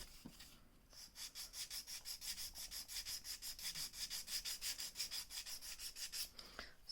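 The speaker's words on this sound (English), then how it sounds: "So I'm just going to focus my filing on that point" An acrylic nail is filed in fast, even back-and-forth strokes, a rhythmic raspy rubbing that repeats about four times a second, close and quiet.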